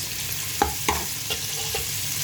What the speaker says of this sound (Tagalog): Kaya magigisa na tayo ng sibuyas para magagawa tayo ng sauce.